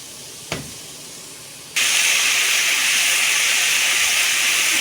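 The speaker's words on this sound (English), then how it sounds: "So I'll just go ahead and just add the oxtail to the pot." Oxtail pieces drop into a hot pot and sear in their own rendered fat for a Jamaican-style Sunday dinner, with a small splash first, then a sudden loud, steady broadband sizzle and hiss that holds without pause.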